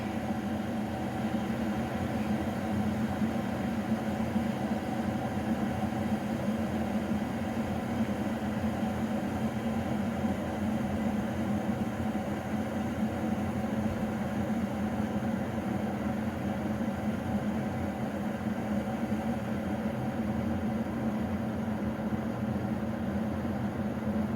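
A continuous, even hum and low rumble, like a pot of water heating on a stove, steady throughout with no talking.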